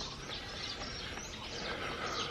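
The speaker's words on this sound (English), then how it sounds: "we got so many of these sparrows around because they're breeding up inside the roof" Sparrows breeding in the roof of a house under construction in the Philippines, chirping faintly and continuously over a noisy outdoor background.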